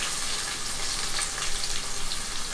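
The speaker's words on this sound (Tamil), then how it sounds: "இப்போ வெங்காயத்தை சேர்த்துட்டு இதையும் நல்லா வதக்கிக்கலாம்" Chopped onion and garlic sautéing in an oil-filled pan, giving a steady, fairly quiet sizzle and crackle that runs without a break and sits close by, with no voices over it.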